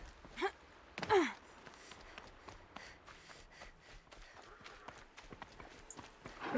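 Scattered hoofbeats of a horse in the video game Horizon Zero Dawn clop on the ground amid soft background noise, with a couple of louder bursts near the start and a faint breathy sigh.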